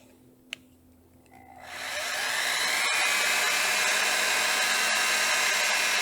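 A wood platter being sanded on a spinning lathe: after a quiet start, a steady loud whirring hiss swells up and runs continuously to the end.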